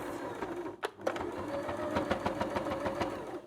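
Sewing machine stitching a tote bag seam, a steady close mechanical whir with a rapid even needle rhythm after a brief pause near the start.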